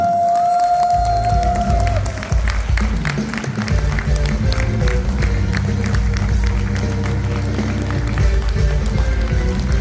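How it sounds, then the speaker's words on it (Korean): A corporate rally audience claps in welcome for a company head, a loud, continuous crowd applause with cheering textures, sustained throughout over low rumbling music-like tones. "사장님을 환영의 박수로 맞이해 주시기 바랍니다."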